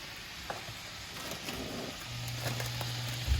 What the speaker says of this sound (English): I'm gonna add my 1 cup of rice to my skillet